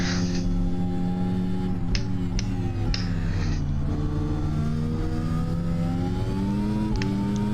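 An F1 car screams around a rallycross track, its high-pitched engine note climbing and dropping through gear changes, loud and close, with sharp crackles and pops between shifts.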